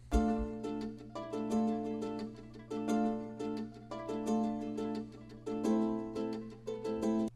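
Sampled guitar chords and two layered ukulele tremolo patterns play together in FL Studio, a dense rhythmic strum and flutter that swells in repeating phrases over a low hum, loud and without voices.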